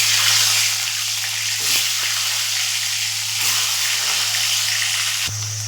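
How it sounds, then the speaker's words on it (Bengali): Eggs frying in hot oil in a pan, seasoned with sugar, salt and turmeric, giving a loud continuous sizzle and crackle with a steady low hum underneath. "দেখুন ডিমগুলোকে আমি এভাবে ভালো করে লাল লাল করে ভেজে নেবো"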